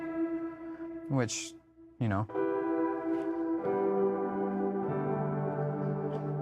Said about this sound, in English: if I turn up the wet dry level on the reverb to where it's half reverb, half signal, sounds like this.